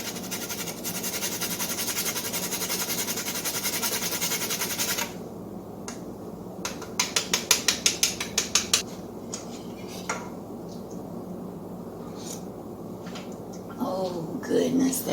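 Cheese rasps against a stainless steel Foley grater made in the USA, giving a run of quick scraping strokes that peak in a rhythmic burst midway. The grating is close and moderately loud, with kitchen clatter around it.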